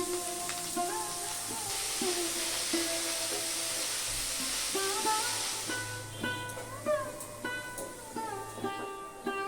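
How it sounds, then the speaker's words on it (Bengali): Chopped vegetables fry in a pan for a Maggi noodle dish, giving a steady, close sizzling hiss with light stirring, under a layer of tonal background music. "সবজিগুলোকে আমি 2 থেকে 3 মিনিট একটু ভালো করে ভেজে নিচ্ছি।"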